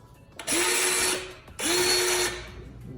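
A Gesipa AccuBird cordless rivet tool runs its setting mechanism through two close, loud motor whirs, each about half a second long and rising to a steady whine, with a short pause between, heard alone.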